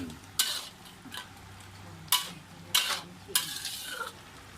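Spoon or spatula stirring a wild-food stir-fry in a frying pan, giving four or five distinct scraping strokes over a steady low sizzle, close and fairly loud with no voices.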